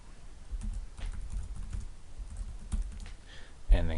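Keys tapped on a computer keyboard while entering text into a WordPress page builder plugin, a steady run of light clicks at close range, quiet and mostly alone, with a sharper noise near the end.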